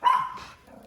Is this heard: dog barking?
yes